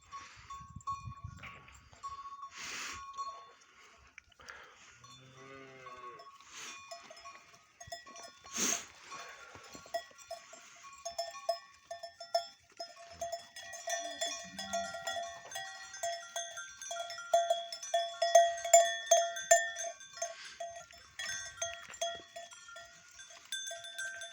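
Sheep are led out on a snowy mountain pasture, their bells clinking and jangling steadily and growing busier toward the end, with scattered bleats and a few brief voices in the background.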